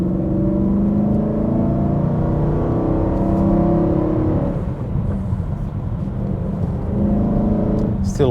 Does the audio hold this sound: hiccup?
no